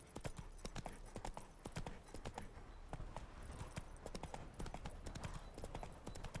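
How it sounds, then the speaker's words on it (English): Roach, the horse in The Witcher 3, plods along with steady, evenly spaced clip-clop hoofbeats, close and continuous, with a little ambient noise underneath. "Spooking my horse."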